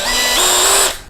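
A compact Doliz BD637 20V cordless brushless drill whirs loudly close by as its trigger is squeezed, with a high steady whine that steps up in pitch partway through, then cuts off abruptly.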